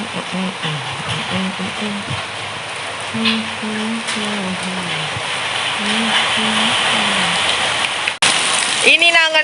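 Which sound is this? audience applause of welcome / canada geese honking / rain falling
rain falling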